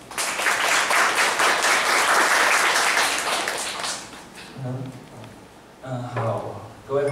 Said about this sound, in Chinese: 那我们请掌声欢迎刘威仁先生。